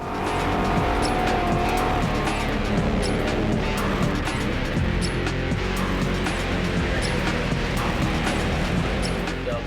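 A street-legal drag racing car accelerates hard, its engine roaring loud and continuous with tire squeal over the full stretch, close by and without speech.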